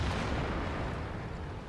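Artillery fire in World of Tanks lands as a single heavy, rumbling boom that fills the moment and slowly decays.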